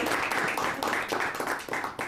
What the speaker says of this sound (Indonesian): Tepuk tangan. Tepuk tangan dulu dong.